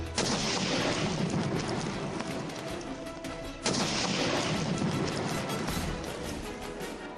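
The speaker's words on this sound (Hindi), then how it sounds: "जहां एक जिलेटिन की छड़ ने बड़े पत्थर के परखच्चे उड़ा दिए" A gelatin stick explosion blasting a big rock roars and rumbles continuously, then a second sharp boom hits midway, followed by sustained crashing debris noise.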